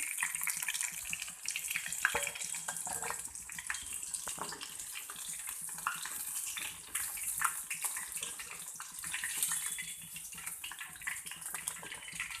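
Chicken 65 pieces deep frying in hot oil, a dense, continuous hissing sizzle that stays close and steady with small bubbling bursts, no voices over it.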